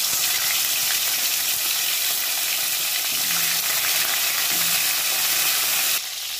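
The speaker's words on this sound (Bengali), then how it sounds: "আমি এবার কাঁকড়াগুলো আমি এক এক করে তেলের মধ্যে ছেড়ে দেবো" Continuous loud sizzling and crackling of crabs frying in hot oil, steady throughout, with a brief low bump midway and a drop near the end.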